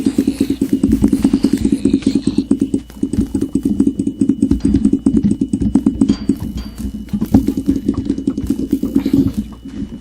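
A computer keyboard clatters in rapid, loud, close bursts of typing and key presses during Mineplex Minecraft mini games, over a steady low hum.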